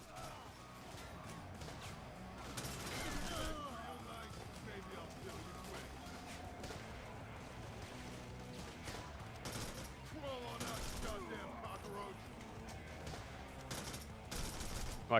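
Gunfire in the action game Devil's Third, a sustained rattle of shots mixed with crashes and clanks, moderately loud under steady in-game voices and fighting noise.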